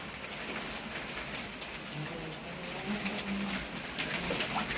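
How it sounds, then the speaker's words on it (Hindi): Steady rain hisses across the whole clip, with a bird cooing softly in the background. "बारिश कितनी मस्त हो रही है यार"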